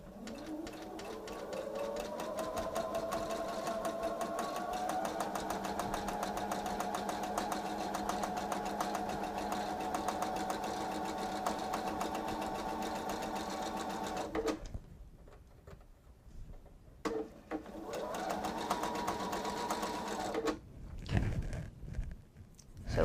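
A sewing machine stitches colored and white fabric for a table runner, a fast steady mechanical chatter that runs for long stretches, stops briefly, then starts again close by.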